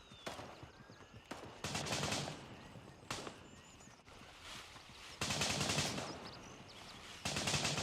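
Video game gunfire aimed at the player: bursts of rapid automatic shots come in repeated volleys with short gaps between, loud and fairly close, no talking.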